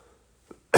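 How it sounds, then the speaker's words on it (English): A single loud, harsh cough bursts out near the end after near silence, preceded by a brief faint throat sound, from a person commentating while playing a game. "that's gotta be very annoying hearing me cough all the time"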